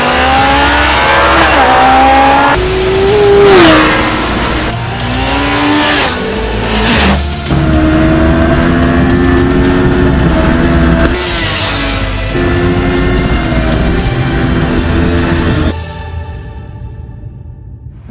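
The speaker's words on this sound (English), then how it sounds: "you are left with a motorcycle that accelerates like this" A Kawasaki Ninja ZX-14R motorcycle accelerates hard, its engine screaming up through the revs in loud, rising pulls broken by quick gear changes, then cutting off sharply near the end.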